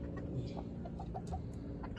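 Chickens cluck in short, repeated calls close by in a coop where roosters are kept, the soft bursts overlapping over a steady low farmyard murmur.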